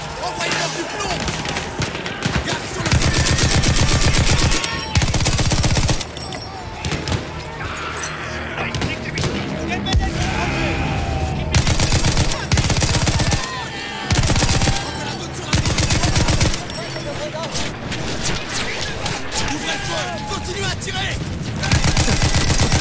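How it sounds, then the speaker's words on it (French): Battlefield 1 campaign gunfire rattles in repeated loud bursts, separated by a few shorter breaks, over a dense war soundscape with voices mixed in. "Continue à tirer!"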